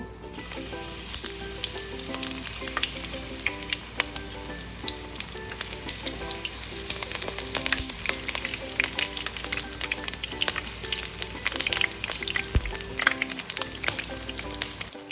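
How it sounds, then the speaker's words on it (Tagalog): Eggplant frying in hot oil for crispy pork kare-kare, a steady dense crackle and sizzle with sharp pops scattered throughout, close and fairly loud, no talking. "Sa mainit na mantika ay piprituhin natin ang ating talong"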